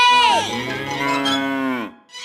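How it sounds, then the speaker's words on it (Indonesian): A cow gives one long, loud, close moo that rises and then falls away in a children's song about farm animals, with no voices over it. "Lalu 1 ekor sapi masuk ke kandangnya."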